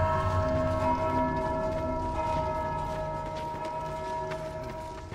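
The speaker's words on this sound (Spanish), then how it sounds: "esto es otra campana" A bell rings in the video game Dark Souls 2, a sustained metallic tone with long ringing overtones that slowly fade, heard alone at moderate level.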